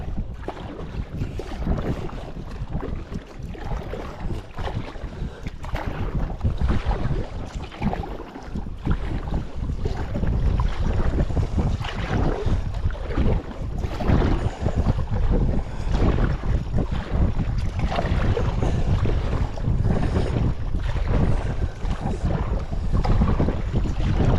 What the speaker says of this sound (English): I think I want to fight that wind for the next mile across this thing